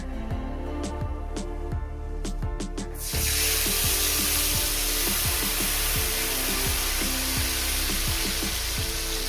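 Spice paste tipped into hot oil in a pan for a Bengali pabda fish curry, loud steady frying sizzle taking over from earlier gentle crackle of black cumin seeds, with spoon clinks and scraping throughout.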